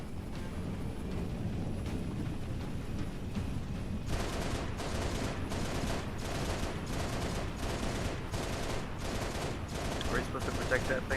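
Bursts of rapid gunfire aimed at incoming bogeys in a Halo video game, starting a few seconds in as evenly spaced repeated volleys over a constant engine drone, moderately loud.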